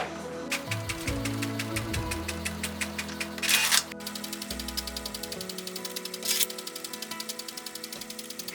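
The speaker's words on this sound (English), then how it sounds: "Here I thought that printer has already finished, but there is still one more page to go." An Epson EcoTank inkjet printer prints pages with a fast, regular mechanical chatter of the print head shuttling, broken by a couple of louder whirring bursts as paper feeds, close and alone without talk.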